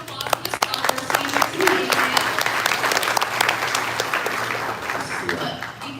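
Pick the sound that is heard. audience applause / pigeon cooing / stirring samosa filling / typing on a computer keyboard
audience applause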